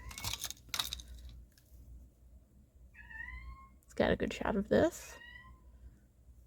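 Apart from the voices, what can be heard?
cat meowing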